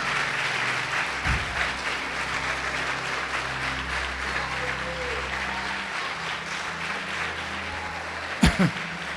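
A church congregation applauds during a Portuguese-language sermon, steady sustained clapping that fills the whole stretch with a faint murmur of voices underneath.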